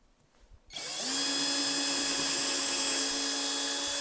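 Power drill boring into dense, hard-packed wood to mount table legs on an epoxy resin table: a quiet start, then a loud, steady high whine that spins up sharply and holds to the end.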